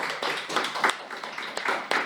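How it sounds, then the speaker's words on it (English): A small audience at a Toastmasters club meeting applauds with soft, steady clapping. The sound is fairly faint and brief, and the claps run together into a light patter. "Let's give him a huge round of applause."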